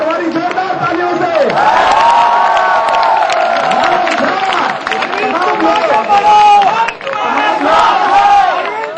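A large crowd at an election victory rally in Delhi claps and cheers loudly and continuously, with shouting voices throughout.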